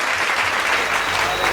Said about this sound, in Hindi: एक बार पूरा सदन, पूरा कानपुर दोनों हाथ उठा के ताली बजा के उन्हें आमंत्रित करे